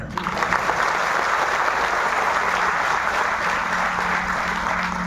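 An audience at a public event applauds for a district collector's birthday, with dense, steady clapping that carries on loud throughout.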